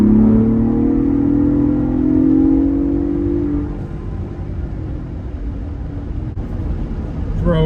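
A 2024 Ford Bronco Raptor engine rumbles loud and close, swelling into a rising rev, then settles to a lower steady growl.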